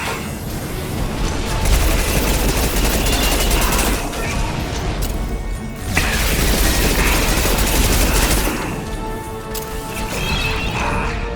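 Dense, loud gunfire from a Mass Effect 2 firefight on Horizon at Insanity difficulty, rapid bursts and impacts rolling on continuously with heavy booms and crashes, broken by brief lulls.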